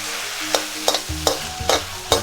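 Cooking wine hits a stir-fry of yellow croaker in a wok, and a rhythmic series of about five sharp scraping strokes of a spatula rings out over a low sizzle. A low humming tone runs underneath.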